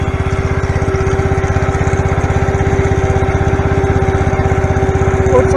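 A Case 444 garden tractor engine runs loud and close, with a steady, throbbing low chug at an even rhythm that continues uninterrupted for the whole stretch.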